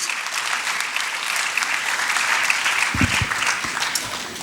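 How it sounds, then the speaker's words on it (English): Delegates at a valedictory ceremony of a national conference of CA students give a warm, steady round of applause that fills a hall throughout, with a few louder claps near the end. "let us once again express our appreciation with a warm round of applause"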